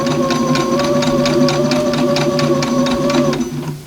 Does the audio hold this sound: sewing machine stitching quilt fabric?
yes